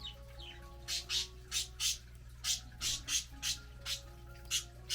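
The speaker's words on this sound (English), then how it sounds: "Oh, birds, mommy hears you." Birds chirp in short repeated bursts, about a dozen evenly spaced calls over a steady low indoor hum, fairly near and moderately loud.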